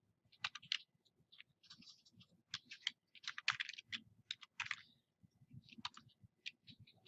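Numbers are typed on a computer keyboard in quick, irregular bursts of crisp, close key clicks, with short pauses between the runs and no talking.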